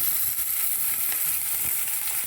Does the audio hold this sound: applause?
no